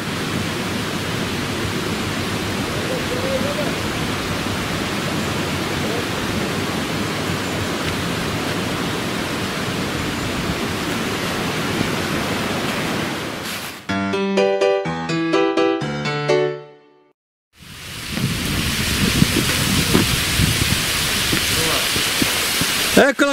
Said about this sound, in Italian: Ecco la cascata!